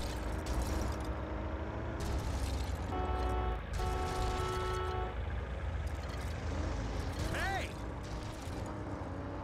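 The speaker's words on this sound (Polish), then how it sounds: "O Boże, jaka ciężarówka." Truck in the LEGO City Undercover video game, heard as rumbling engine and mechanical clatter with a brief beeping tone and a horn-like sweep, mixed with game effects throughout.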